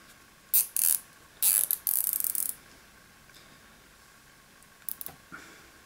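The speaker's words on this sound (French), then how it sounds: "on va utiliser un collier classique d'électricien qu'on va venir placer autour." Electrician's plastic cable tie ratcheting tight around a MagSafe MacBook charger cable, giving a few short bursts of clicking zips close up, then quiet with a couple of faint ticks.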